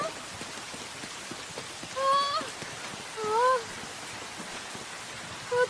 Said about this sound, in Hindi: बारिश बहुत है।